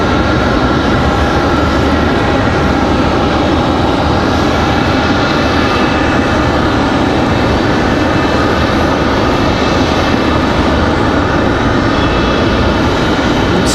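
Airliner arriving at Raleigh-Durham International Airport, a loud, continuous engine roar that holds steady throughout with no voices.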